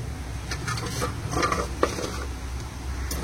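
Chakli, spiral savoury snacks, frying in hot oil in a pan, a steady close sizzle with light stirring clatter and a brief sharp knock near the middle, no talk.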